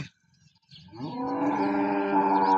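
A cow moos once, a long, loud, drawn-out low call close by, following a brief quiet moment.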